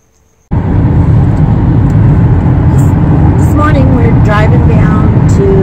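Steady, loud road noise inside a car driving down toward San Diego, a constant low rumble and hum after a brief quiet start, with faint tonal sounds over it late on.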